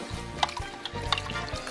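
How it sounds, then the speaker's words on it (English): Water is poured into an emptied tomato puree can while making chili, giving faint, close liquid splashing and trickling with small metallic taps against the can. "You're just going to add a little water to that to get everything off the"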